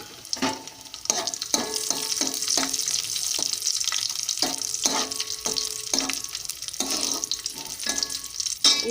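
Raisins (kismis) frying in a pan while making semiya kesari: close, busy sizzling with regular scraping and stirring strokes of a spoon, fairly loud and steady throughout with no talk.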